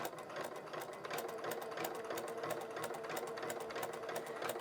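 A domestic sewing machine runs steadily while back stitching along a polo shirt placket, a continuous rapid needle rattle with no pauses and no voices.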